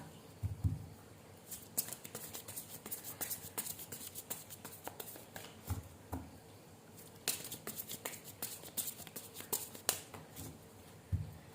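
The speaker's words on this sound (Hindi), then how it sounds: "अभी मैं शफल कर रही हूँ, सो I am not taking any cards." A deck of oracle cards is shuffled by hand at close range, with repeated soft riffles, flicks and papery patter in uneven bursts and no talking.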